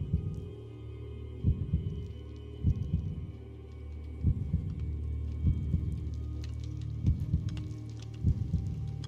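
A heartbeat from the Minecraft map Decked Out 2 thumps in regular, deep double beats over a low hum, repeating steadily and prominently with no talking.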